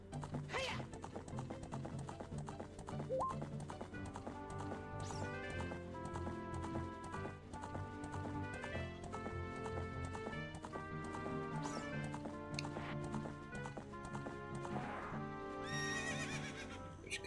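A horse gallops and neighs in Zelda: Ocarina of Time on GameCube. Steady clip-clop hoofbeats and whinnies play under constant, busy game music, with no talking.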